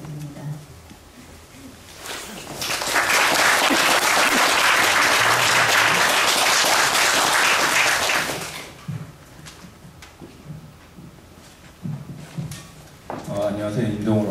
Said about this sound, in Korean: 우리 환영의 박수 부탁드립니다.